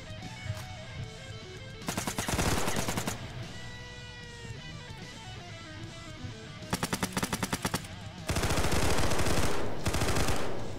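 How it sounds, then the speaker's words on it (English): Gunfire in the video game Burst comes in several loud rapid-fire bursts, the longest near the end, between quieter stretches of game sound. "Jeez, that sounds pretty powerful,"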